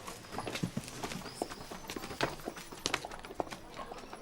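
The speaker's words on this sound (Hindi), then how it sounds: "वो देखो घोड़ा गाड़ी कितना सुंदर है" A horse-drawn carriage rolls past with a steady clip-clop of hooves, close and fairly clear, over a faint background.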